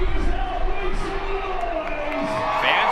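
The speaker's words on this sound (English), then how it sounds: "Fans cheering for out." Baseball fans in a stadium cheering and roaring to vote for an out call on a challenged play at second base, a broad crowd swell under a commentator talking over it.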